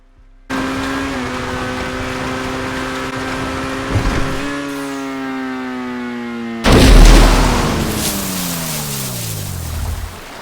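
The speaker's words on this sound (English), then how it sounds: "for the people who care about the sound of the car, this is for you" A Turismo Omaggio supercar in GTA Online holds a loud, steady engine drone with rising harmonic tones, briefly lifting, then bursts into a harsher roar that sweeps downward as the revs fall.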